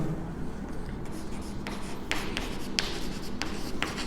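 Marker or chalk writing on a board in a maths lesson, with scattered short scratchy strokes at close range over a low room hum, no speech.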